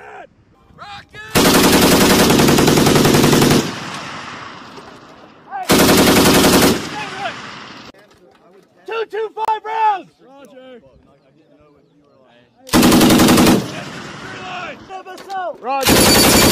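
Machine guns such as the M2 .50 cal, M249 SAW or M240 fired during live training, with four loud, sustained bursts of rapid fire. Voices shout commands in the gaps between bursts.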